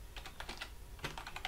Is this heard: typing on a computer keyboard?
yes